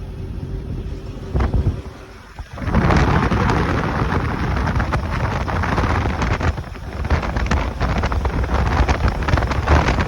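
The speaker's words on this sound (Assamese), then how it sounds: "এতিয়া লাহে কেনে বৰষুণ আহি গ'ল" Heavy rain pours down steadily on a truck with a rumble of thunder and gusts of wind buffeting the microphone, loud and close.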